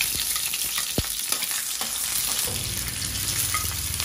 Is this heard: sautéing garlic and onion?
yes